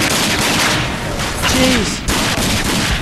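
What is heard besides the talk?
gunfire in the video game RAGE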